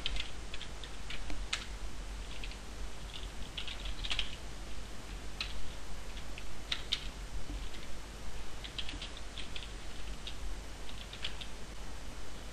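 Steady, fairly faint keyboard typing goes on for several seconds while Processing code for Android 3D texturing is entered, scattered light clicks and occasional louder keystrokes over a low constant hum, no voice.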